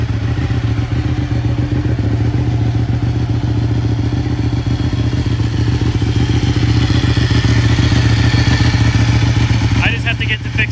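A 2014 Ducati motorcycle engine runs at a steady idle, a loud, close, continuous rumble with a rapid mechanical patter. A voice speaks briefly over it near the end.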